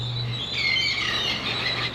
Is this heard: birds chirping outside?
yes